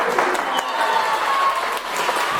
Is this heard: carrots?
no